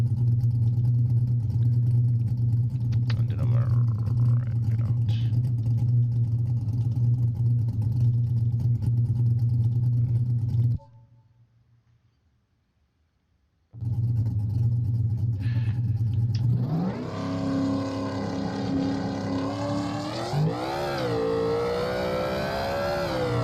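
A car in the BeamNG Drive driving game holds a loud steady engine rumble on the line, drops to near silence for a few seconds, then returns and launches for a street drag run, the revs climbing and sweeping upward through the gears.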